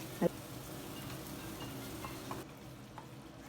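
Garam masala being stirred into a curry that is simmering and frying in a home kitchen, with steady sizzling throughout and a spoon scraping the pan once near the start, then a few faint ticks as the sizzle softens.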